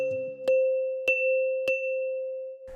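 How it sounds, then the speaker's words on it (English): Struck bell notes demonstrate a rhythm of 2 in a music theory lesson, starting with a short low flourish and then evenly spaced ringing strikes over one sustained tone, clean and isolated. "I'll play both rhythms with bell notes. The rhythm of 2 will be these 2 notes."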